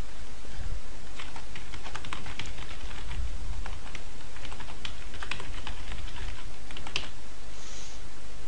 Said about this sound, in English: So I'm just going to go ahead and just type in something here. And the password.